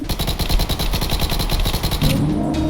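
Rapid automatic gunfire from a gun in Minecraft, a fast, loud, evenly spaced burst of shots lasting about two seconds before cutting off into a low hum.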